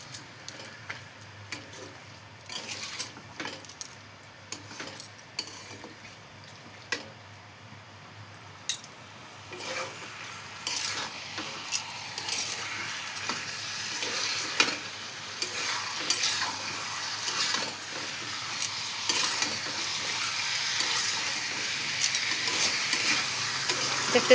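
Chicken curry with potatoes being stirred and fried in a pan, a steady sizzle with repeated scraping stirs of the spoon that grow louder and busier over time, no talking.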